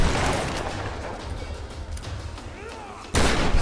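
Enemy gunfire in the Tomb Raider video game during a beach fight, heard as a continuous rumbling barrage of shots with a sharp, louder burst near the end.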